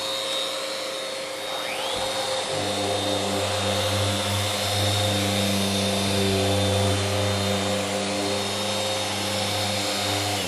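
A random orbit sander switches on after about two seconds and runs at a steady, loud whirring drone for the rest of the time, with a faint hum before it starts.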